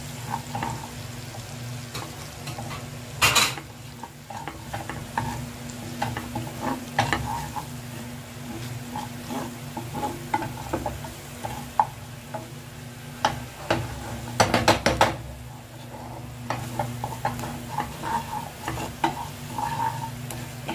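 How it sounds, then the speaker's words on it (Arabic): Coriander, cumin and ginger frying in butter in a pan, a steady sizzle under repeated scraping and stirring strokes, with a few sharper utensil knocks against the pan. "الكزبرة والكمون والجنزبيل كله مع بعض كده نقلبه في الزبدة"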